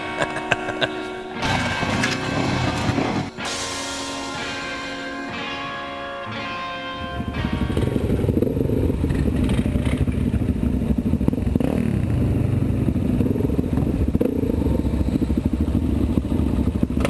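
Several dirt bikes, part of a twelve-rider group on a weekend camping trip, run together in a steady engine drone with clattering and scraping, the engine noise growing louder and fuller partway through.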